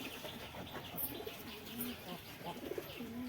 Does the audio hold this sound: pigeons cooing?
yes